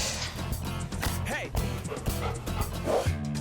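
A dog at a veterinary assistant's workplace gives several short yipping barks and whimpers, close by, over a busy indoor background with a voice speaking briefly.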